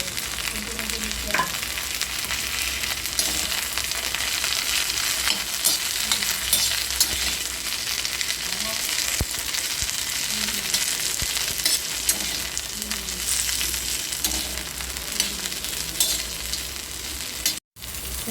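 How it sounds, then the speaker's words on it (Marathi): Cluster beans (guar) roast and fry in oil in a pan, a continuous loud sizzle with occasional stirring scrapes and pops running throughout. "गवार भाजताना त्याच्यामध्ये आपल्याला तेल टाकावं लागणार आहे"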